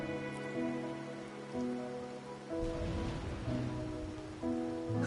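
Rain falls steadily in the video game Wuthering Waves, a soft, continuous patter under layered ambient music tones, with no voices.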